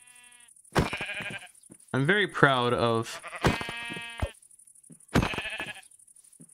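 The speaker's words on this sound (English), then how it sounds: "More sheep over here." Several sheep bleat in Minecraft, with wavering cries coming in short bursts over a few seconds between clicks and game sounds, while a person talks over part of it.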